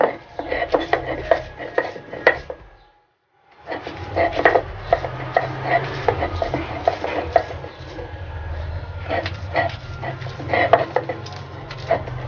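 Fried eggplant and fish being ground on a stone slab, with a steady rhythmic scraping and knocking that pauses briefly before resuming, plus faint background noise.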